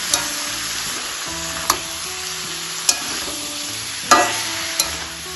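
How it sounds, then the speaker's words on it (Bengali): Cabbage stir-frying in hot oil for a Bengali prawn and cabbage ghonto: a dense, continuous sizzle close up, punctuated every second or so by sharp clacks of a spatula against the pan. "বাঁধাকপিটাও সব কিছুর সাথে ভালোভাবে কষিয়ে নেব।"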